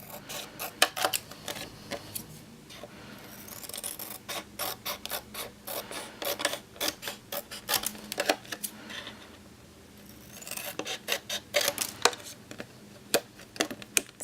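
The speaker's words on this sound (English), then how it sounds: "I'm going to do the same type of thing and cut further away on these sides." Scissors cutting paper envelopes, close, with sharp snips coming in rapid clusters and brief pauses between runs.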